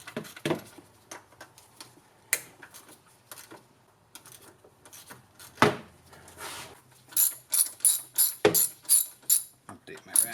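A ratchet wrench clicks in short bursts on a gas 1997 EZGO TXT golf cart engine during valve adjustment, quiet and near, with scattered knocks before a run of fast, rhythmic ratcheting at the end.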